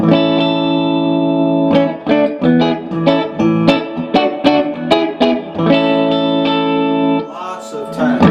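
An Agile electric guitar fitted with GFS pickups, volume all the way up, plays a clean, ringing run of strummed chords and picked notes with steady rhythm, close and loud.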